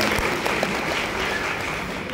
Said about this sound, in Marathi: टाळ्या वाजवा ताई, खरंच एकदा टाळ्या